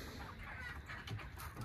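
Chickens cluck softly in a quiet coop, a few faint overlapping calls against a hushed background.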